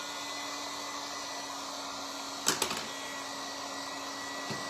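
A heat tool blows hot air steadily over craft items for a bird bottle project, a constant broadband whoosh throughout with a few brief clicks and knocks partway through.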